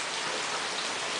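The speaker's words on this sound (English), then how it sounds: "It's still raining" Heavy rain pours steadily, a dense unbroken hiss of drops hitting surfaces up close, loud and constant with no voices.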